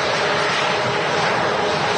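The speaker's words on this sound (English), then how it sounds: "And there's that PC-12 departing." A Pilatus PC-12 turboprop departs Manchester Airport, its engine and propeller producing a loud, steady broadband roar throughout the short stretch.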